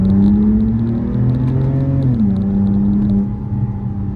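A BMW E92 328i with muffler and resonator delete revs loudly up close, its raspy engine note climbing steadily, then dropping off and settling back to a lower droning idle.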